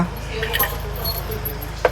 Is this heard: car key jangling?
yes